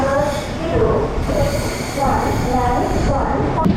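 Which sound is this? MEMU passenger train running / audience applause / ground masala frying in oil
MEMU passenger train running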